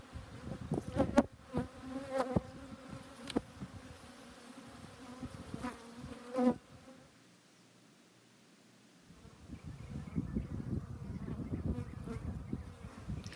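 Honey bees buzz around an opened beehive as the top box is lifted off, a soft steady drone close by, with handling knocks and rustles early on and a quieter stretch in the middle.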